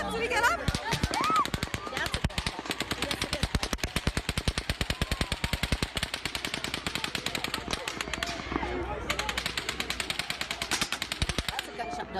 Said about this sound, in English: That's a gunshot, dog.